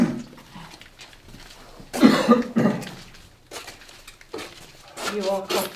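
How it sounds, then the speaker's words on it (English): Someone coughs in a few harsh bursts close up, mixed with talking and a clatter of small objects. "You are coughing now."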